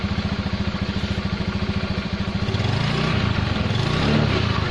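Honda Beat scooter engine with a freshly cleaned washable air filter, a close, rapid puttering idle that swells into a smooth, louder rev partway through, then holds steady.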